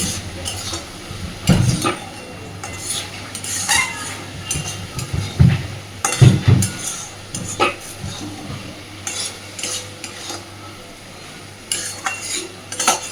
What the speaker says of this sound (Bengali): সব কিছুকে এবার খুব ভালোভাবে মিশিয়ে দিয়ে ঢাকা দিয়ে দেব।